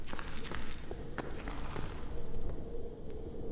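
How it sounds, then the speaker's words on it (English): Footsteps in the horror video game Forewarned patter along at a steady walking pace, a series of soft, close steps over a rumbling ambient background, no talking. "Okay, footsteps."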